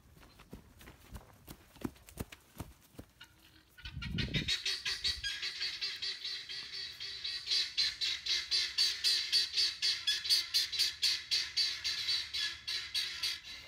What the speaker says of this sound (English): Oh my gosh, those guineas are back.